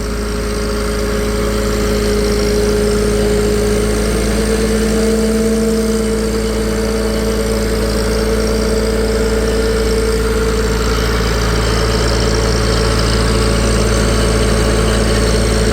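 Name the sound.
Farmall C tractor engine running on a dyno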